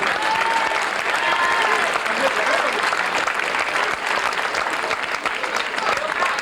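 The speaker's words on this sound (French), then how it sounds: "Vous pouvez applaudir bien fort" A race crowd applauds a finishing runner at the 1996 Auray–Vannes road race, steady dense clapping filling the whole stretch, loud and close, with faint voices mixed in.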